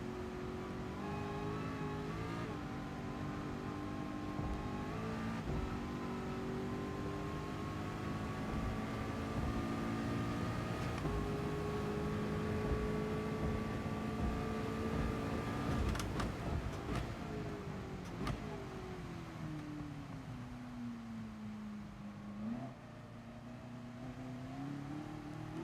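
Race cars, including a Ford and a Honda NSX, lap a circuit in Gran Turismo Sport with a steady, moderately quiet engine drone that rises and dips through gear changes and corners.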